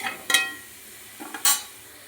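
Ingredients for tomato thokku are stirred in a frying pan, a few short scraping stirs and soft sizzles coming in quick bursts, close and fairly quiet.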